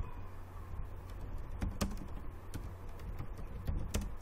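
Typing on a computer keyboard, a steady run of quiet close keystrokes with a few sharper taps over a faint background hum.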